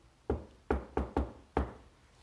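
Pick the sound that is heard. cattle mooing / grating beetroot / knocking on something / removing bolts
knocking on something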